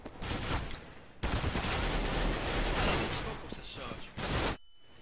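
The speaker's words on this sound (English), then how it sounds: "shooting and jumping, my friend" Counter-Strike gunfire during a matchmaking game: dense, continuous bursts of shots filling most of the clip, loud and close. A short gap comes early, and everything cuts to near silence just before the end.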